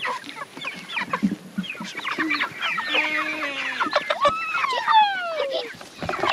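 A flock of farm chickens clucks and squawks continuously at close range, with overlapping calls and a few long drawn-out cries, and a faint voice in the background.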